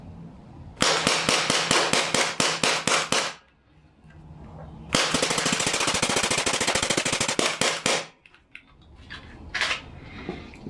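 An HPA airsoft pistol fires two fast strings of sharp, evenly spaced cracks, each string ending abruptly, followed by a few scattered clicks of handling.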